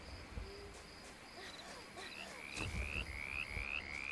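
In the video game Baldo: The Guardian Owls, a frog gives a string of short, rising croaks over a soft ambient bed. The calls come faster and a little louder toward the end. No one speaks.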